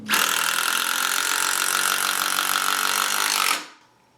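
A Hitachi 12V lithium-ion impact driver drives a deck screw into pine with a steady, loud rattling hammer lasting about three and a half seconds, stopping abruptly with nothing else heard.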